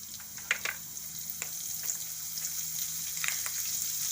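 Cumin seeds and green garlic dropped into hot oil in a pan, giving a soft, steady sizzle with a few sharp crackles and pops near the start.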